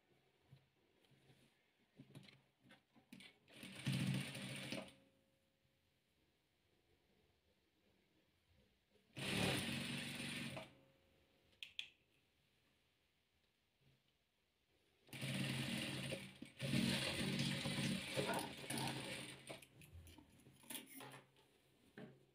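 A sewing machine stitches rows of patchwork for a heart-pattern quilt, running in three bursts, the last and longest broken by short pauses, with quiet handling sounds between them.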